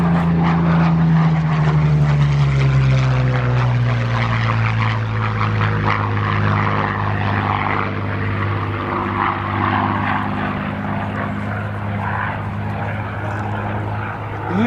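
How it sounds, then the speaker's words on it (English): A Curtiss P-40C Warhawk fighter makes a final fly-past at a Duxford air display, its piston engine droning loudly overhead with a falling pitch as it passes, then fading into a steady distant hum. "Final pass then by the fighter collection's Curtiss"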